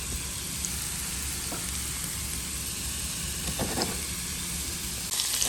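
Spices and vegetables frying in a pan for hashbrowns, a continuous close sizzle and hiss with occasional stirring clicks, no talking.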